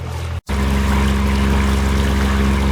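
A diesel boat engine hums steadily and loudly close by while motoring out of a marina, a low, even motor drone with water noise, after a short dropout at the start.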